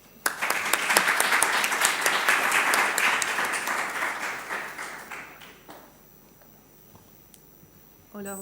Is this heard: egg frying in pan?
no